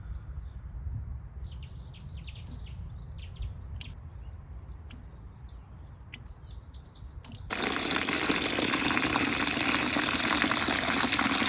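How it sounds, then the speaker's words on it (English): Birds chirp over a low background, then water suddenly gushes from a tap into a bucket, a loud continuous splashing rush that lasts to the end. "it's activated when the water from your tap hits the product in the bucket"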